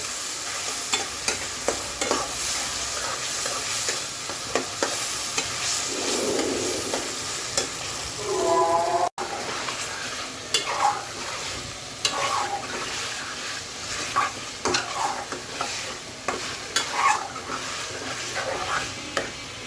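Chicken with garlic paste and yogurt frying in a pan for chicken chilli, a continuous close sizzle with frequent stirring scrapes and utensil knocks, no talking.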